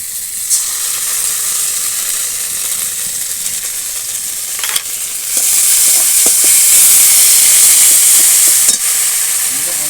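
A pan of tomato sizzles loudly and steadily, growing to a stronger hiss after a paste of ginger, onion and cumin is added, with a few stirring clicks.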